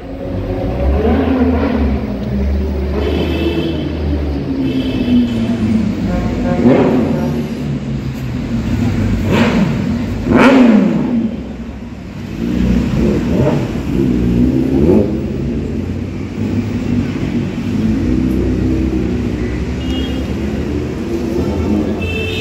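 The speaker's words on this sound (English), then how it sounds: "we have a super bike coming." A superbike passes with its engine revving hard, a continuous roaring drive that swells and peaks near the middle as it goes by, loud and close over street ambience.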